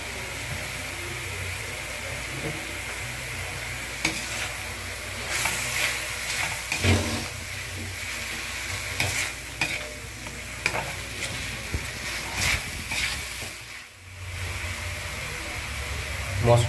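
Masala with added tomato sauce fries and sizzles steadily in a pan, with periodic scraping stirs and clinks throughout, while a voice speaks over the cooking.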